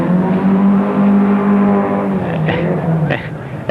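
A Datsun rally car runs fast downhill on a dusty road, its engine droning loud and steady, rising and then fading, as a commentator speaks over it.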